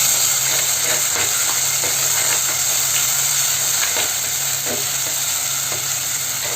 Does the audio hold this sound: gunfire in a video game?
no